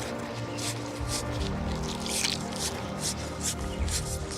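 Water is poured onto manure in garden soil and mixed in, giving wet squelching, dripping and trickling in a loose uneven rhythm close by, with no speech.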